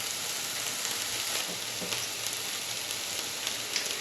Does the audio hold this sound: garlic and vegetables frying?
yes